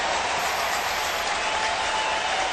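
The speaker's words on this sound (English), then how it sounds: "Now listen to this crowd" A baseball crowd at a Cardinals at Cubs game in August 2005 roars and applauds with two strikes on the batter, a dense, loud, unbroken wash of clapping and cheering.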